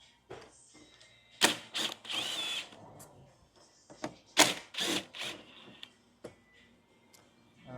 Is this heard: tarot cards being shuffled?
no